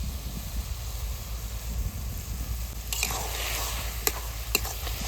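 Greens stirred with a watery rice flour paste in a pan give a steady, close wet sizzle and scraping under a low rumble, with a few sharp clinks of the spoon against the pan near the end.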